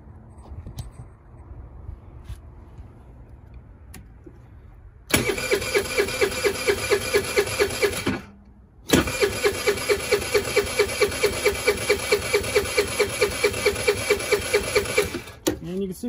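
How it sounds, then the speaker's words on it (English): A cold Ice Bear engine cranks with a fast rhythmic chugging of the starter but fails to catch, in two long bursts separated by a brief pause, after a quiet stretch with low murmuring. "I'll see if she'll start without starting fluid."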